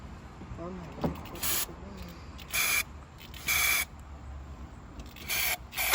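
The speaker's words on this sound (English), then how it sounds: "I'm gonna spray a little carb cleaner in it" Short hissing bursts of carb cleaner spray into an abandoned 1977 Chevy Camaro engine, four or five quick spritzes in an irregular rhythm, close by and fairly quiet.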